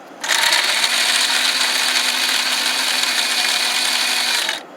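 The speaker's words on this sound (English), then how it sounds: "Alright, now, we're going to grind it." A blender grinds food with its lid held down, roaring loudly and evenly for about four seconds before cutting off sharply, alone with no talking.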